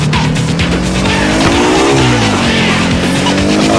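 Car tires squeal and skid in the video game GTA IV, loud and continuous over a revving engine drone, with no talking.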